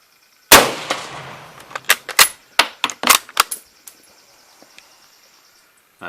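A Mauser Kar 98K rifle fires a single loud, sharp shot that decays into echo. A quick run of metallic clacks follows as the bolt is worked, then near silence.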